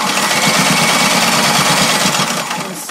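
A sewing machine stitches across a linen slipcover for a Parsons chair, its needle hammering in a fast, steady, buzzing rhythm, loud and close, easing slightly near the end.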